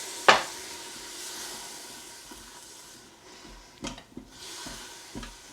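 Stock splashed onto curry powder in a hot Instant Pot, a soft steady sizzle and hiss with a sharp splash at the start and a few light scrapes of stirring later.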